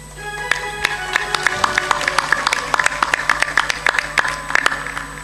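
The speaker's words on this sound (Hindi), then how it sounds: "ताली जोर से बजाया करो।" An audience at a spiritual discourse claps in sharp, irregular bursts of individual hand claps over a low steady hum, close and fairly loud for several seconds.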